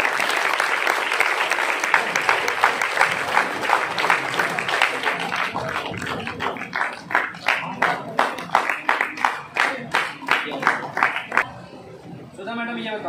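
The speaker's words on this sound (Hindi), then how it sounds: "ताली बजाओ।" Audience applause at a gathering in India, with a crowd clapping steadily and in loose unison, rising into rhythmic bursts toward the end while voices speak over it.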